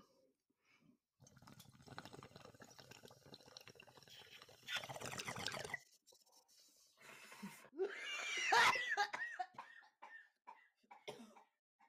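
A few throaty coughs and rough breaths amid quiet muffled voices and shuffling, fairly close, with one harsher cough burst near the end.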